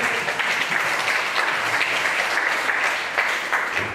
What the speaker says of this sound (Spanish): Demos un aplauso grande a Dios por ustedes.